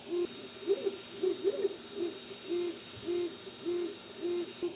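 Ender 3 S1 Pro 3D printer running on a plastic base, its stepper motors giving a faint tonal hum in short, repeating rhythmic pulses.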